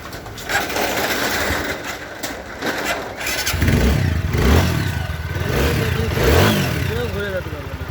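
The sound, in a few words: TVS Apache RTR 4V motorcycle engine running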